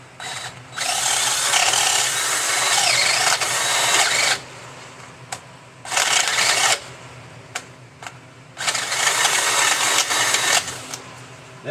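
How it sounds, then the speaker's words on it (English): Drill bit honing out a bolt hole on a Jeep YJ, three loud bursts of whining power-drill noise, the first about four seconds long and the others shorter, separated by quiet gaps with a few clicks. "So we're going to hone out this hole just a little bit so the bolt will fit."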